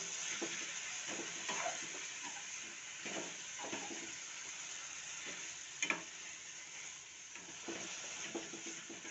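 Onions and green chillies cook in a pan with a steady soft sizzle and hiss, punctuated by occasional faint stirring scrapes; moderately quiet, with no talking.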